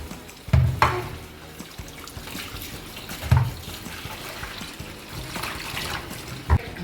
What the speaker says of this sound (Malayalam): നമുക്ക് വെള്ളം ഒഴിച്ച് നന്നായിട്ടൊന്ന് കഴുകിയെടുക്കാം.